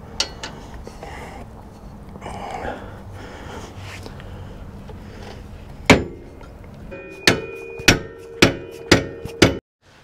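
A dead blow hammer strikes lift kit parts on a vehicle suspension, a single hit followed by five more in quick succession, sharp and solid, ringing slightly with a metallic tone after quieter handling noises.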